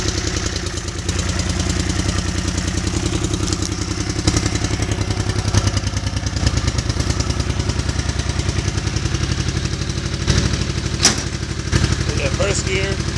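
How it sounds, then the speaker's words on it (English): A 1981 Honda CX500 motorcycle with a broken exhaust and missing baffle runs loud and steady up close, its engine note shifting through the gears with a continuous throaty rumble. "We will show this bike going through the gears."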